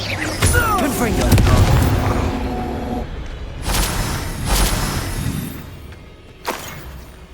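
Confringo blasting spells going off in Hogwarts Legacy: several close, booming impacts with shattering crashes, clustered early and then spaced out over a busy background of game noise.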